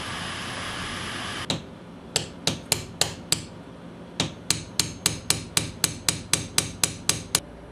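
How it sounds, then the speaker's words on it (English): Hammer striking a nail punch to countersink finishing nails in crown molding, about nineteen sharp metallic taps in steady bursts, close and clear with no talking. "countersink them using a punch"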